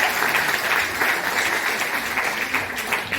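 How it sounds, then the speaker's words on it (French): Steady applause from an audience at an eloquence contest evening, dense and even for the whole stretch with no voices above it. "on peut l'applaudir parce qu'il a travaillé tout le temps"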